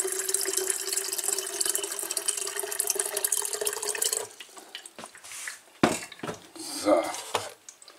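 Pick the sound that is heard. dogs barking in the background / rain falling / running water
running water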